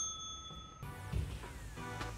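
A bright, single bell ding rings out clearly over a quiet background, its tone sustaining and slowly decaying, with a few soft knocks and bumps behind it.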